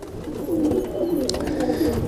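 A Rekhta pigeon coos softly in a low, rolling warble close by, over faint background noise.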